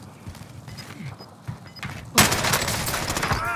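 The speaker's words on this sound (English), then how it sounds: "They're shooting at me!" Sudden loud burst of rapid gunfire in Call of Duty: Modern Warfare, erupting after a quieter stretch and continuing as dense overlapping shots with sharp cracks to the end.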